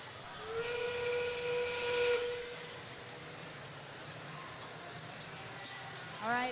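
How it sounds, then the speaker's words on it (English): A loud, sustained whistle-like signal marks the end-game phase of a 2022 FIRST Robotics qualification match at the Tippecanoe district event, holding about two seconds over constant arena crowd noise before fading. "All right, that is the sound for end game."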